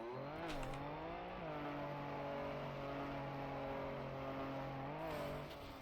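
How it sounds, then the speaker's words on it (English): Rally car engine in a Trackmania racing game, a continuous droning whine that climbs and dips in pitch with revving and gear changes throughout. "I don't think the rally car gets very far."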